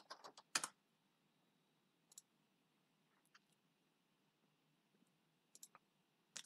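Typing a search into Google on a computer keyboard: a quick burst of clicky keystrokes at the start, then a few scattered, faint key taps in a quiet room.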